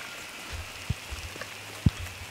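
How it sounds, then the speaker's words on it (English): Rain falling on a vegetable garden with turnips, rutabagas and broccoli, heard as a faint steady patter with a couple of sharper nearby drops landing, no voices. "Now it's raining."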